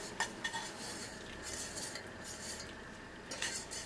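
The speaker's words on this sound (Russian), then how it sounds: "Мы его сейчас помешаем." Sugar syrup being stirred in a pot while preparing peaches for canning, with soft scraping and a few light clinks of the spoon against the pot over a quiet background, no talk.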